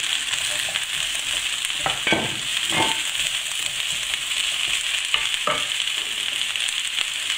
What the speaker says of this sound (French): il faut tourner sans cesse de façon à ce que les légumes ne brûlent pas